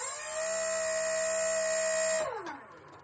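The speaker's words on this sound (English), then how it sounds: "You could hear the motor go." Small electric motor of an E-flite UMX Turbo Timber RC plane whines steadily at close range with a thin buzzing hum for about two seconds, then spins down and fades.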